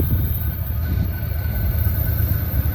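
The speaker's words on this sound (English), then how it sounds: "Oh, look at the locomotive." Freight train with three locomotives rolling past on railroad tracks, a steady, loud low rumble that fills the whole stretch without a break.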